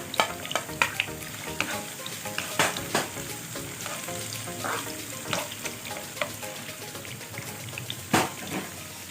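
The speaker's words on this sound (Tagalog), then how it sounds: "Then, ilalagay na rin natin itong garlic." Garlic sizzles loudly in a pan while cooking for a fresh tomato rigatoni pasta, a continuous close frying hiss broken by scraping stirs and occasional sharper clinks.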